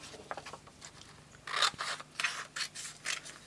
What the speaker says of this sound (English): I'm just going to cut a slither off this paper